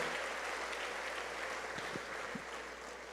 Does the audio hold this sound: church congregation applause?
yes